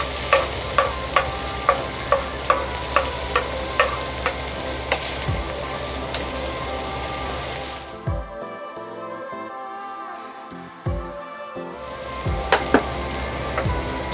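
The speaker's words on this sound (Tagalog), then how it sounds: "Igisa na natin yung ating sibuyas." Onions sautéing in about two tablespoons of hot oil in a pan give a steady close sizzle with regular stirring clicks, a brief quieter gap as the pan is handled, then the frying resumes.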